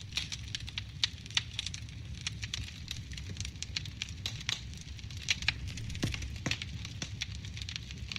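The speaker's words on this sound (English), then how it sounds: "And now we're hearing fireplace." Fireplace crackling played as a relaxation sound through a smart speaker, a faint steady bed of low flame noise scattered with sharp pops and snaps at irregular intervals, no voices.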